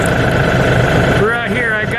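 An LS XR4140HC tractor engine idles while warming up, giving a close, steady low rumble with even pulsing, and someone speaks over it during the second half.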